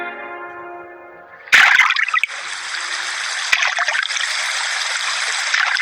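River water laps against a bank on a moonlit night, a steady broadband wash of small waves after a brief tonal lead-in, continuous and fairly close with a sharp splash near the start.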